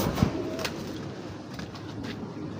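A pair of tiger grizzle racer pigeons cooing softly and close, one throaty coo standing out early over low, muffled background noise.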